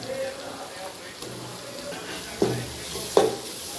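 Green chilli paste and fenugreek leaves frying in a pan give a low, steady sizzle with soft stirring scrapes, and two sharper clinks of a spoon against the pan stand out near the end.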